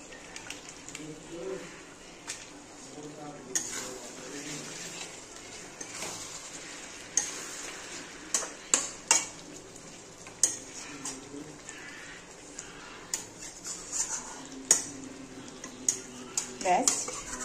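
Chicken cooking in a pan after water and chicken masala are added, a low sizzle with repeated sharp clacks and scrapes of a spoon against the pan, while a voice talks intermittently.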